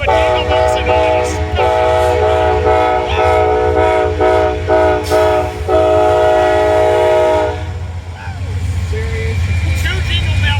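An Amtrak Southwest Chief #4 train departing Fullerton sounds its multi-tone horn in a Jingle Bells melody: loud, close, sustained chords that shift pitch note by note before cutting off, with people exclaiming over it.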